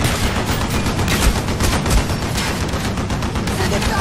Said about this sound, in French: Les canons de la tour vont nous massacrer Reznov